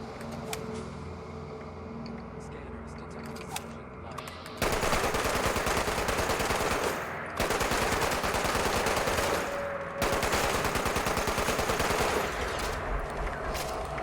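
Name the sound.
gunfire in the video game Fallout 76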